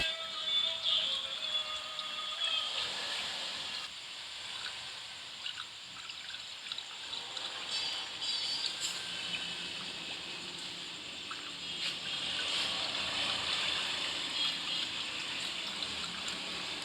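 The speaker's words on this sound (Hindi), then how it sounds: "इसके अंदर ना एक दफ़ा हम पानी डाल लेते हैं" Water trickles and splashes steadily as it is poured into a car's radiator reservoir bottle, a faint, continuous liquid stream with small gurgles and drips, with no voices over it.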